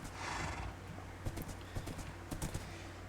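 A horse in the video game Minecraft clip-clops along with a quiet, steady rhythm of hoof taps and a brief whinny, set over a constant low background hum.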